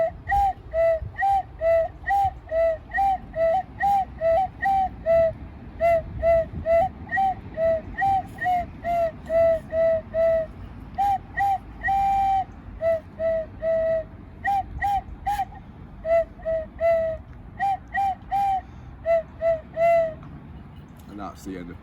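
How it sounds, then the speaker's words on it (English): A Cuckoo Cool bird whistle plays a lively tune of short, bright, pure-toned notes in a steady bouncing rhythm, close and loud, continuing alone for over twenty seconds. "I'm allowed to play it on my Cuckoo Cool bird whistle"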